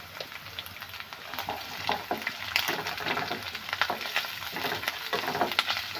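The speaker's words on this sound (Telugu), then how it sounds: "పసుపు కూడా మంచిగా వేగాలి." Turmeric frying with onions in a pan for a jackfruit seed masala curry, a continuous close sizzle with crackling and frequent scraping stirs throughout.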